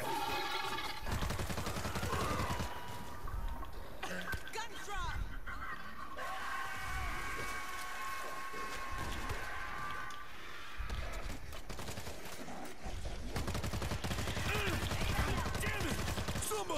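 Gunfire in the World War Z video game's New York campaign mission, busy continuous battle noise with rattling automatic weapons and scattered shots, someone talking over it.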